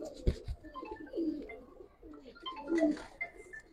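Giribaj pigeons coo softly nearby in a few low, rolling calls with short pauses, close and fairly quiet.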